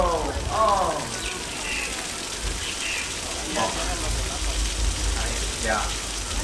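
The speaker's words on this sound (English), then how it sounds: "I didn't know it was going to rain today." Steady rain falls across the Universal Studios tour set as an even hiss throughout, with people's voices and exclamations heard faintly in the mix.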